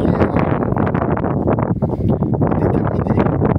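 Strong gusting wind buffets a microphone outdoors by old bunkers, a loud, continuous rumbling roar with rapid fluttering bursts and no clear voices.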